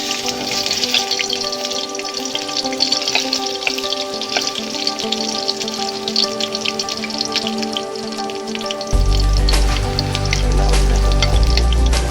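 Cooking oil sizzles steadily as food sautés for a Bisaya-style chicken dish, a continuous close hiss with faint tonal background sounds, joined near the end by a heavier low rumble as the pan grows louder.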